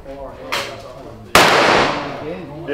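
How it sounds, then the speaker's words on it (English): A .357 Magnum round goes off in a Smith & Wesson six-shot revolver at a pistol club. It gives one sharp, loud report with a short decaying tail, preceded by a fainter pop, while people talk nearby. "This is a 357 Magnum round, and it's being fired."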